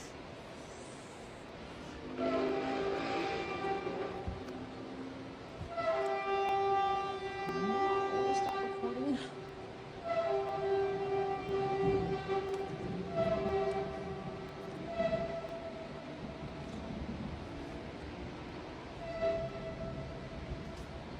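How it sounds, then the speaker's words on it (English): Long, sustained tornado siren wails drifting from a distance, rising in several waves over steady background hum. A brief voice comes in at the end. "my guess is this could have been tornado sirens"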